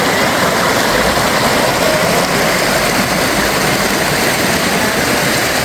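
The Guaxinduba river rushes over its waterfalls at Canta Galo, a loud, dense, continuous roar of churning water up close, unbroken and without any voices.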